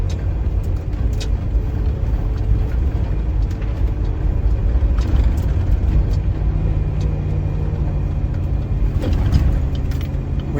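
A truck rolling along a mountain road in high range second gear, with a steady low engine and road rumble throughout and no change in level.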